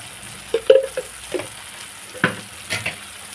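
A spoon stirs chili powder into a tomato curry in a pan, giving a few soft scraping strokes and light sizzles with brief pauses, close and moderately loud.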